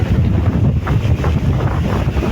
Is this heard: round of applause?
no